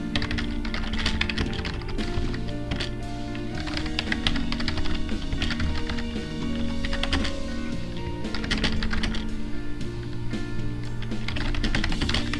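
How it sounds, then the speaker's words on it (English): Fast, steady typing on a small office computer keyboard with undersized keys, a dense run of close key clacks carrying on without pause over a low background hum. "I can't type very well on this keyboard"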